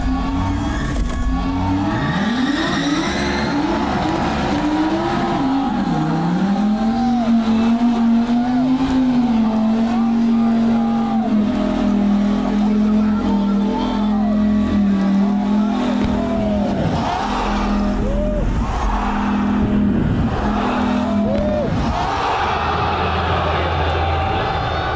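A drifting car revs hard and howls through a long slide with sustained tire squeal and engine roar, loud and close, with scattered sharp pops that fit exhaust backfire.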